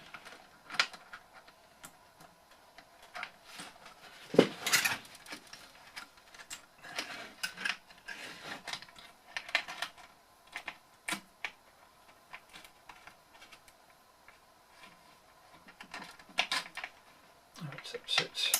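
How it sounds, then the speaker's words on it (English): Small springs are fitted onto the bass buttons of a Hohner accordion: scattered light metallic clicks and taps come close by at irregular intervals, with a few sharper snaps, against a quiet background. "So I've got to just slightly compress that spring in order to get it to line up with"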